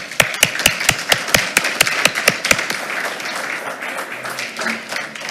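A few people clap in a sparse, uneven burst of sharp hand claps at a school board meeting, thinning out and fading after a few seconds.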